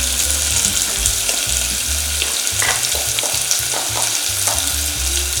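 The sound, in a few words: onion and curry leaves sautéing in pan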